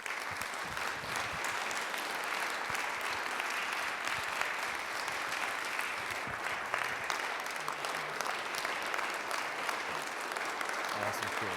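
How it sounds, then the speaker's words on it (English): An audience at a Rotary meeting gives a police officer a sustained round of applause for a hero and valor award, many hands clapping steadily for about eleven seconds with some voices mixed in. "Please join me in congratulating and applauding Officer Christopher Wermuth for receiving the Hero and Valor Award."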